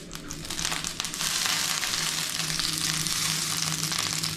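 Water hits a hot pan and breaks into a loud, continuous sizzle that stays steady and close.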